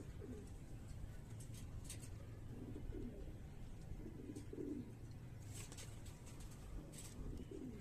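Highflyer breeder pigeons coo softly in a loft, repeated low throaty coos over a constant background hum, with a few faint chirps.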